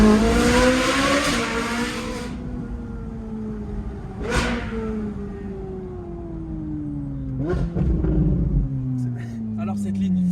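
A Ferrari 458 Spider with an IPE exhaust is heard from on board. Its engine howls at very high revs, climbing through the gears with shifts and a sharp blip of the throttle. The sound is loud and continuous throughout.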